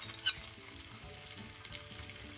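Cashews fry in ghee for sweet pongal, a soft, even sizzle with a couple of small clicks from the pan, fairly quiet and unbroken.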